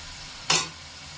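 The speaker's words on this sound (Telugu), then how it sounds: "ఉల్లిపాయ పేస్ట్ని పచ్చివాసన రాకుండా బాగా ఈ నూనెలో మగ్గించుకోవాలండి" Onion paste frying in oil in a pan, a steady low sizzle broken by one short, louder burst as it is stirred.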